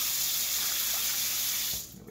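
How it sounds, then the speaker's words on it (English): A kitchen tap pours a steady, close, hissing stream of water into a cup, then shuts off abruptly near the end. "Now I'm going to grab a cup, and we're going to make sure there's water in here"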